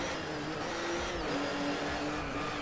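A Mercedes engine revs hard and steadily in the DriveClub racing game, a loud continuous roar that holds high revs with slight shifts in pitch and no talking over it.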